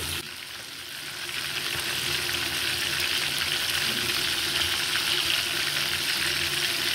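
Fish fries in oil in a pan, a steady close sizzle and crackle that runs unbroken and holds level after a brief quieter start.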